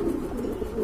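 A Lahori pigeon coos up close in a short, soft, warbling burst that fills the brief moment alone.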